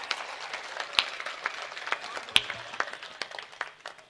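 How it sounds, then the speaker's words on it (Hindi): Scattered, fairly faint hand claps from a seated audience in a conference hall, individual claps popping irregularly rather than merging into full applause. "पूरा सदन हाथ खड़े करके जोरदार तालियां बजाए"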